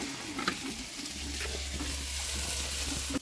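A spoon stirs turmeric, spices and salt into a mushroom curry frying in a pan, with a steady soft sizzle and scraping under a low hum; no talking.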